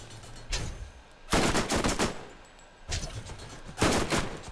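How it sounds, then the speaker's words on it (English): Bursts of rapid gunfire in the Borderlands shooter, fighting bandit thugs near Krom Canyon, coming in several loud volleys separated by short quieter gaps. "I'm gonna just shoot that damn thing out of there"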